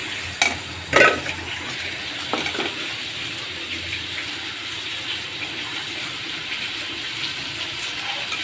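Eggs and potatoes dropping into onion masala frying with green chili, turmeric, chili powder, coriander powder and salt: a couple of brief splashy hits near the start, then a steady soft sizzle running alone throughout.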